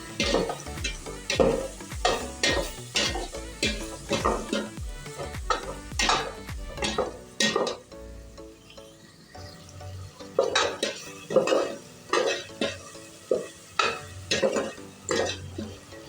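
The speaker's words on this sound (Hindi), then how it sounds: "टमाटर और प्याज को अच्छे तरीके से मिक्स कर लें।" Tomatoes and onions are stirred in a pan for a garlic curry, rhythmic scraping strokes of a spoon against the pan over a low sizzle, with a brief pause midway.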